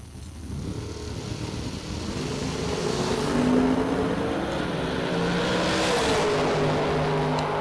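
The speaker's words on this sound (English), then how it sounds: "Randy Elliott in the Corvette." A Corvette drag racing car makes its run, a loud continuous engine roar that builds and holds steady with rising and falling tonal lines, heard alone without talk.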